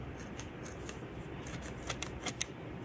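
Scissors cutting a piece of coffee filter paper, faint crisp snips repeating unevenly, a few sharper cuts near the end, close and without speech.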